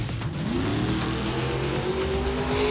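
A 1988 Ford Mustang launches down a drag strip, its loud engine note climbing steadily in pitch as it accelerates hard, a roaring rising whine over crowd and track ambience.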